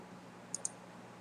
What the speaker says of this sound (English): We just got to click the directory